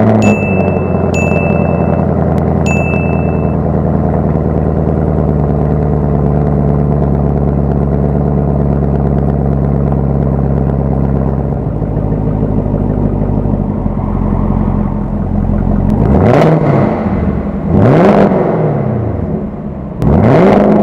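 A 2020 Chevrolet Camaro ZL1 with a 6.2-liter supercharged V8 and quad exhaust idles with a deep steady rumble, then revs loudly three times, each blip rising and falling sharply near at hand.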